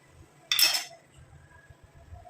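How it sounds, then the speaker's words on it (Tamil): A knife cuts the bottom off a whole chilled tomato in one brief, sharp scraping slice against a quiet kitchen background. "இதை வந்து அடிப்பகுதியை மட்டும் இந்த மாதிரி கட் பண்ணிக்கிறேன்"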